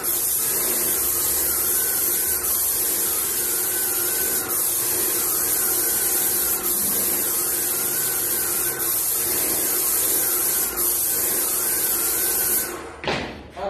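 A paint sprayer coats a door in steady passes, giving a continuous loud hiss with a faint motor hum underneath that holds for the whole stretch before cutting off near the end.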